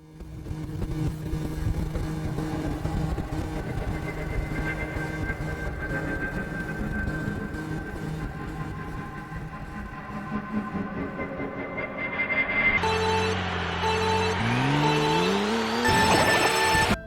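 Mario Kart video game karts race with a constant buzzing engine drone, then tire skids and game effects near the end, loud and continuous without talk.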